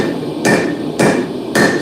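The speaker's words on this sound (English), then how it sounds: "Got my B&B Forge diagonal peen hammer." A B&B Forge diagonal peen hammer forging spring shears delivers three sharp, loud metallic strikes at a steady rhythm about half a second apart, with no talking.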